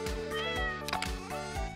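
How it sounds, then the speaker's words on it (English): A cat in the video game Stardew Valley meows several times in quick succession, clear and close with a rising and falling tone, over a steady musical background. "Oh, kitty kitty."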